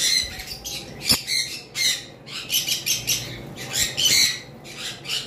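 Harsh, shrill squawks from yellow-sided conures repeat in rapid bursts throughout, loud and close, with several birds calling over one another.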